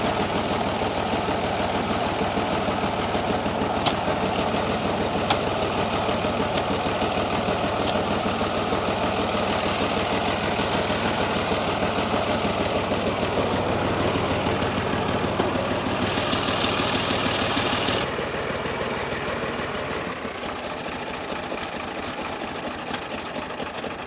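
An Al-Ghazi tractor engine runs steadily while the tractor is being dug out and pulled free of soil, a loud continuous mechanical drone that eases slightly near the end, with no voices.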